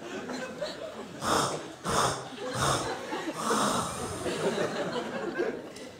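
A comedian imitates snoring on stage with several rough, rattling inhaled snorts and breathy exhales, close and fairly loud, in a slow uneven rhythm.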